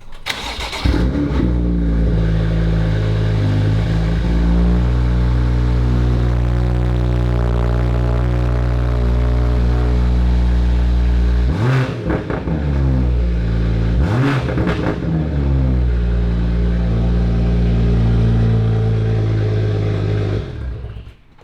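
A powerful supercar engine fires up and idles with a deep rumble, then revs sharply twice, each surge climbing and falling back before cutting off.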